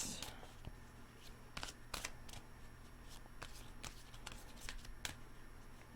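A deck of tarot cards is shuffled by hand at close range, giving a series of quick riffling snaps and soft flutters, quiet against a low household hum.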